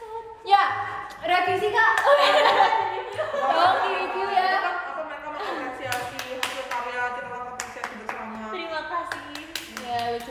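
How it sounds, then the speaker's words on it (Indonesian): Clapping during a live idol showroom stream; sharp, scattered claps come mostly toward the end, mixed with lively talking and laughter close to the microphone. "tepuk tangan yang keras sekali sekali"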